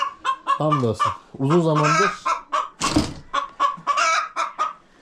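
Hens cluck in a coop where they are laying eggs, close throaty clucks and calls mixed with someone talking over them.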